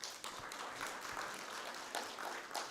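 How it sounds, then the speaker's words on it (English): Faint, distant applause from a conference audience at Kisii University in Kenya, greeting Nigerian guests. The clapping forms a steady patter with a few louder swells and no voices over it. "A round of applause for the Nigerians."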